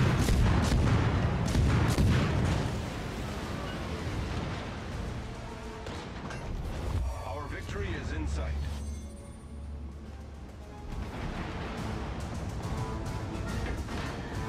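Warship guns fire in World of Warships: Legends aboard the T4 destroyer Podvoisky. Heavy booming blasts and rumbling naval gunfire roll through a continuous battle soundscape, with a voice speaking intermittently over the action.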